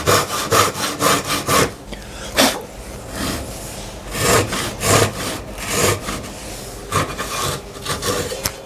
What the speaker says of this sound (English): So I'm going to switch over to a Japanese saw.